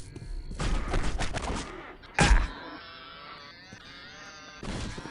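A rapid burst of video-game gunfire rattles for about a second, then one heavy loud shot, followed by quieter game ambience and another brief flurry.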